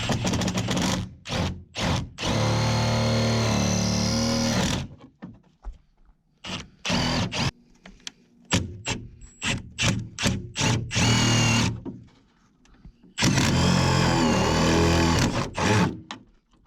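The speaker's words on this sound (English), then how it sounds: "I'm just going to go ahead and drill a 5/16 hole through the plastic and the metal." A power drill bores a 5/16 hole through plastic and sheet metal on a square-body Suburban barn door, in several whirring bursts of a few seconds each separated by short pauses and quick trigger taps.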